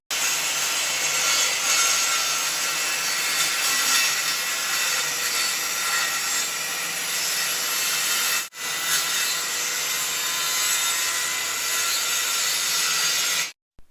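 A circular saw cuts plywood diagonally with a steady, loud, close rasping whine that runs continuously, breaks off for a split second, then resumes and stops abruptly at the end.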